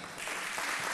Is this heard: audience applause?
yes